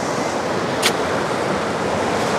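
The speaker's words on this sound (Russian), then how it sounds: "какое море неспокойное" Rough sea surf rolls onto a windy beach at Anapa during a storm, a continuous loud roar of breaking waves and gusting wind with no voices.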